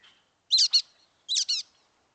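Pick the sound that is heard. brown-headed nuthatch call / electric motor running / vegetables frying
brown-headed nuthatch call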